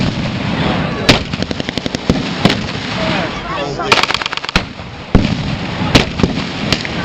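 British mortar fire at a VE Day battle re-enactment show at the Royal Gunpowder Mills sounds as loud, sharp bangs and rapid crackling volleys, some in quick bursts, close and booming over outdoor noise.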